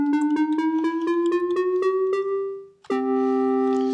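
A series of short synthesized tones tuned in perfect fifths plays in quick succession, pitch climbing steadily step by step, followed by a sustained held tone.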